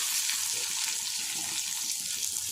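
Onion fries in oil with cumin and mustard seeds for a bitter gourd and onion dish, giving a steady, close, unbroken sizzle with no voices.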